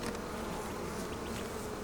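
Honeybees in an open hive during an inspection hum in a dense, steady buzz, close and continuous with no talking over it.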